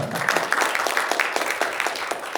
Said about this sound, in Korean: 예, 박수 한번 해주십시오